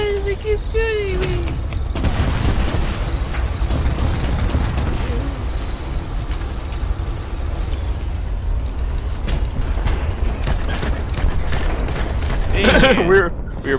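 Gunfire from BattleBit Remastered, a dense, continuous rattle of shots and bursts running nearly the whole stretch, loud and mixed in with shouted, frantic talk from players.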